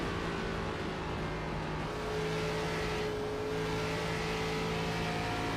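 A race car engine on a dirt track, throttle rising and falling as the driver modulates it to rotate the car through a corner, a steady loud drone holding throughout with no voices.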